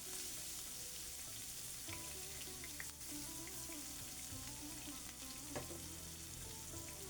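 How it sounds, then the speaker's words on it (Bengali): Chopped onion and chili frying in a pan to cook fish curry, a faint, steady sizzle and crackle with occasional stirring taps against the pan, no voices. "এখন আমি মাছগুলো রান্না করার জন্য পেঁয়াজ কুচি আর মরিচ দিয়ে দিলাম ফ্রাই প্যানে"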